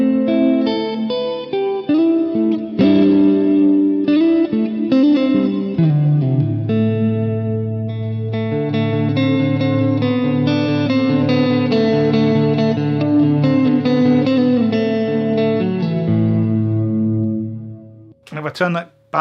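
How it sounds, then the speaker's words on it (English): Electric guitar played clean through a Boss MS3 multi-effects unit with modulated reverb, sustained chords and single notes ringing with a shimmering, wavering wash, loud and close, continuous for most of the passage before a brief pause. "So I can get my lovely modulated reverb from here."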